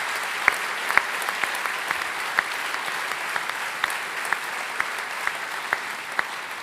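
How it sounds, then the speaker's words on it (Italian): Steady applause from a theatre audience at an economic awards ceremony, a dense continuous patter of many hands with a few sharper individual claps standing out, moderately loud and sustained throughout with no talk over it. "Quindi anche a loro rivolgiamo un applauso"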